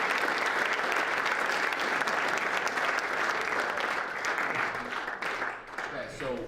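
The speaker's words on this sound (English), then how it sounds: "So let's give these guys a round of applause" Symposium audience on a campus breaks into sustained, dense applause that fills the room, fading slightly toward the end as a voice starts to speak over it.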